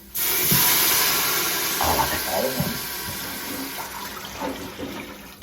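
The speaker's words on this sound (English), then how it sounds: "Now I'm going to put in 3 cups of water." Three cups of water pour into an Instant Pot for Mexican black beans, a steady close rush of liquid that gradually softens, with a few faint clinks and a voice murmuring underneath.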